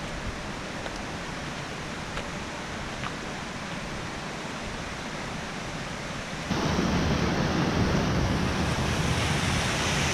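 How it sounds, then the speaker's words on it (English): Steady broadband rush of small river rapids along a muddy trail near falls, constant and fairly loud, growing noticeably louder and closer partway through, with no talk. "Nice little rapids along the way."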